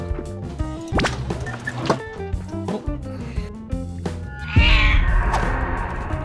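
A cat meows repeatedly in a horror video game, several short distinct meows spaced over a few seconds amid game sound effects and thuds, ending in a louder, rougher burst of noise.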